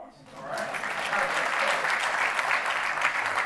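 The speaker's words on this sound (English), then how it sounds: "Give Mike Summers a round of applause, all right?" An audience at a Duke University talk on minorities in STEM bursts into applause for Mike Summers, the clapping swelling within the first half-second into a dense, steady roar that holds loud and even to the end.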